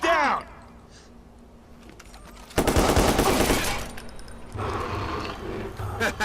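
Gunfire in the video game Watch Dogs: a long, loud burst of rapid automatic shots mid-clip, then further dense firing, with game voices shouting around it.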